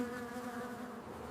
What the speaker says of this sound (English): Some bees are flying out of the hole in the hive.